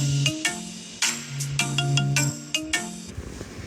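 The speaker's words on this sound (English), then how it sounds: "this ringtone sounds like it's baby's first ringtone" A simple electronic phone ringtone plays alone, a quick, chirpy sequence of bright beeping tones repeating in a bouncy rhythm.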